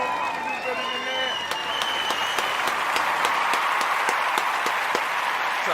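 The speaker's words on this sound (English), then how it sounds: "So we want to give all the Umoja born, all the Umoja babies a round of applause." Sustained applause from a live audience honoring newborns at a community gathering, dense and steady throughout with a few sharper claps and cheers; a voice speaks over it at the start.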